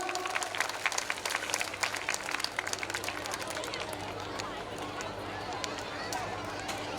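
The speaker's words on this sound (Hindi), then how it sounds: "जोरदार तालियां आती रहना चाहिए" An audience at the Dohela folk music festival in Khurai claps steadily, a dense patter of applause that continues evenly for about seven seconds at a modest distance with faint crowd murmur underneath.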